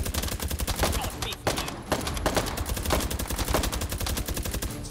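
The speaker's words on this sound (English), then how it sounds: "Is someone firing?" Rapid automatic gunfire crackles in the VR shooter H3VR, dense bursts of close, loud shots repeating almost without pause and overlapping one another.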